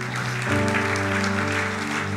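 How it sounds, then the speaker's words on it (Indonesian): A church congregation claps steadily through a worship service while sustained organ or keyboard chords ring underneath, the applause even and moderately loud throughout. "Berikan tepuk tangan buat Tuhan."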